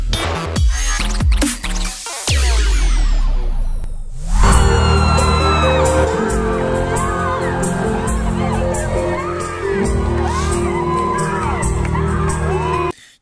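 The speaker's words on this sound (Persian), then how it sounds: "جیغ و دادای ملت هم باید تحمل بکنید دیگه" Crowd at a live concert screams, whoops and cheers loudly and continuously, with a brief dip near two seconds before the roar swells again and holds over the music.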